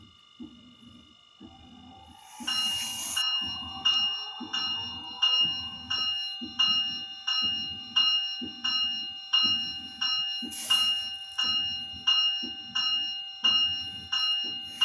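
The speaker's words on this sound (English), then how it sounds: "The bell and the ditch lights, F1." A brand-new DCC model locomotive rings its bell in a steady, evenly spaced series of bright metallic dings, loud and close, continuing for many strokes after a short quiet start.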